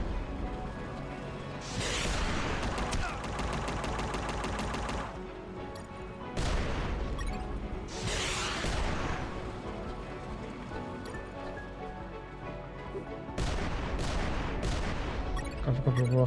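Gunfire in the video game UnMetal comes in several clustered bursts of sharp, crackling shots, with rapid repeated reports between pauses over steady game background.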